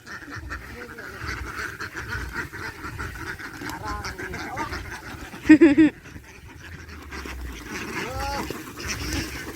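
Farm ducks quack loudly in a sudden close burst midway through, with softer animal calls, panting and outdoor rustle around it and a voice talking in the background.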